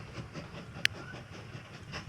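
Train rolling along in the Mashinky railway-building game, a low steady rumble with faint rhythmic clatter and a single sharp click partway through, at a quiet level.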